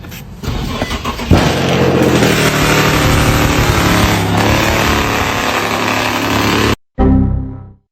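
Mercedes C63 with catless downpipes and a swapped engine, running loud and close with a rough, heavy rumble that holds steady for several seconds, cuts out abruptly, then fires back briefly before fading.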